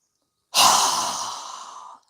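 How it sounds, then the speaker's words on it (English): A single strong exhale pushed out through a wide-open mouth during a yoga breathing exercise, loud and close, starting abruptly after silence and trailing off into quiet about a second and a half later. "we're going to exhale with a strong breath with our mouth open wide"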